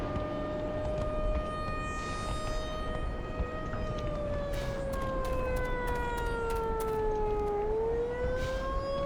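A wailing siren in the Black Mesa game rises and falls slowly and steadily, loud and continuous over a rumbling background, with occasional sharp clicks and bursts near the end.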